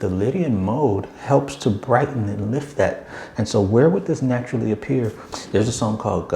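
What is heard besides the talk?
No everyday noises stand out.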